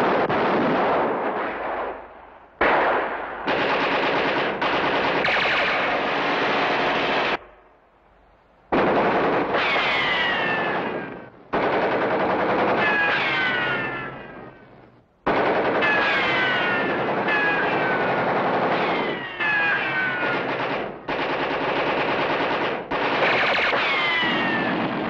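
Sustained gunfire in a prison yard from a 1959 film: long loud bursts of rapid machine-gun and rifle shots with ricochet whines, broken by a few short pauses, with no voices.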